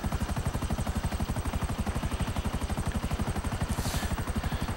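A Buzzard helicopter in GTA 5 flies with a loud, close, steady rotor thump, each blade beat evenly pulsing over a continuous engine whine for the whole stretch.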